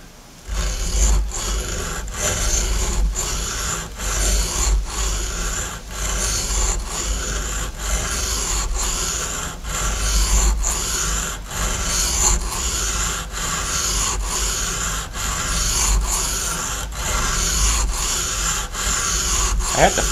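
Steady rasping file strokes while reconditioning hair clipper blades, with a continuous abrasive scraping broken by regular short breaks, close and loud, with no talking.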